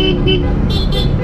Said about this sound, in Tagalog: Yung busina niya pang Fortuner eh, no?